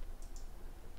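Two quick, light computer mouse clicks close together, close but soft over low background noise.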